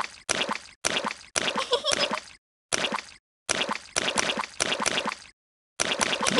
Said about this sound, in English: Peppa and Susie Sheep love jumping up and down in muddy puddles.